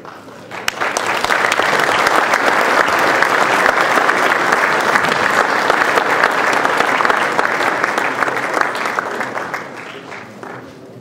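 An audience applauds at the opening ceremony of the Agrokomplex 2014 agricultural fair, with dense sustained clapping that swells quickly, holds loud for several seconds and tapers off near the end.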